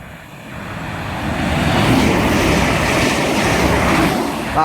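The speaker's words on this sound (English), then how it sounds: "the next train to pass is going to be London Midlands Class 350 bound for Liverpool Lime" A London Midland Class 350 electric multiple unit bound for Liverpool Lime Street passes at Hartford on the West Coast Main Line, a broad rushing roar that swells after the first second and holds steady with faint rail rhythm.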